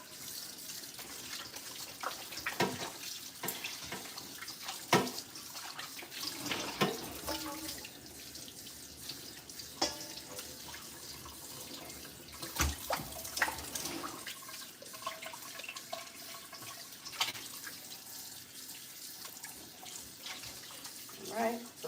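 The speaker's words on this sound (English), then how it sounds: "I'm going to turn the water off." Kitchen tap water runs steadily into a sink while pork roasts, a continuous broad wash with occasional clatters and knocks, with a person's voice faintly mixed in at times.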